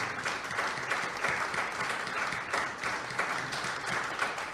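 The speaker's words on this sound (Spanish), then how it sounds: "denle otro aplauso al Señor" A church congregation applauds during a Sunday service, a soft, distant wash of steady clapping that swells slightly in waves without any voice rising above it.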